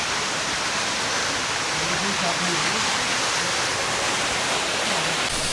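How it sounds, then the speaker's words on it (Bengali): Loud, constant roar of a waterfall in the Bandarban hills, Bangladesh, filling the scene, broadband rushing water with a faint voice buried underneath. "ও এই ঝর্ণাটা দেখুন"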